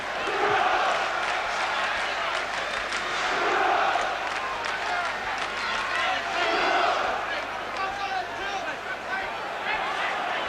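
A large boxing crowd roars and cheers steadily throughout, a dense wall of noise with swelling peaks, heard from within the arena during a heavyweight fight.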